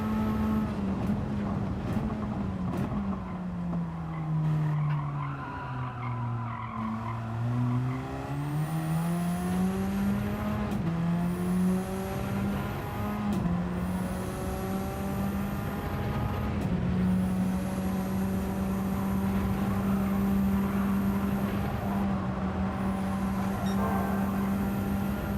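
Car sliding with screeching tire squeal in Gran Turismo 7, a steady engine drone with pitch swooping down and back up through the slide, loud and continuous with no talk.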